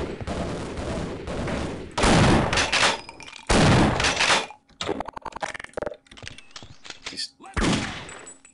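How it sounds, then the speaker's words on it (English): Rapid gunfire bursts from Half-Life: Opposing Force, several loud volleys of automatic fire separated by short gaps, with scattered single shots and clicks in between. "Yeah, you go right ahead and fire at him."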